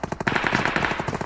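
Rapid bursts of gunfire from a shotgun in a mobile battle-royale video game, a fast string of loud, close shots with brief gaps, heard alone without talk.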